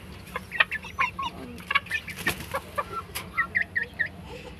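Two backyard chickens raised on a balcony cluck in repeated short, close calls, with scattered bursts and a soft squawk midway, alone without talk.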